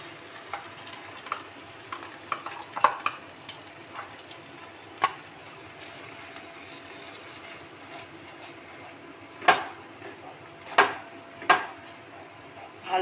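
Brain and poppy seed paste being stirred into fried spices in a pan, with a soft sizzle underneath and a scattering of sharp scraping clicks from the spoon against the pan.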